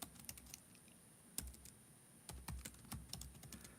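Typing a zip code on a computer keyboard, a faint quick cluster of key clicks with short pauses, soft and close, with no voices.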